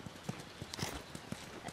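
Horse hooves clip-clopping in The Last of Us video game, a faint, close series of evenly spaced hoofbeats in a walking rhythm with no talk over them.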